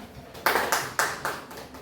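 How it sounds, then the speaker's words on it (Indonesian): A small group of students in a counseling class gives a short round of applause for a classmate, a few loud, evenly spaced bursts of clapping that each fade quickly. "tepuk tangan dulu buat Almira"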